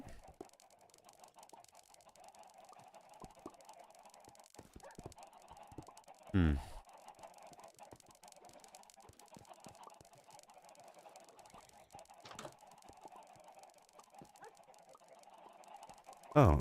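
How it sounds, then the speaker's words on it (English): Minecraft chickens clucking faintly in the background, soft scattered clucks under quiet ambience, broken by a couple of louder sharp knocks. "I can hear my chickens."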